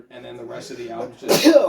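A man's speech about an album breaks off into one loud, close sneeze, followed by a brief gasp.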